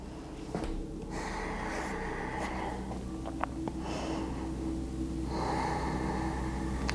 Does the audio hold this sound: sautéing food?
no